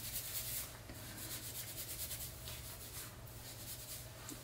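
IGK charcoal detox shampoo rubbed into hair, a soft continuous scrubbing rustle heard close and fairly quiet, steady for several seconds with no speech.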